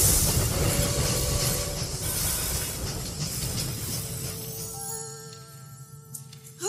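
A cartoon train rumbles along with a steady, fairly quiet rolling roar and faint hiss, thinning out near the end as tonal whines and a few clacks come through.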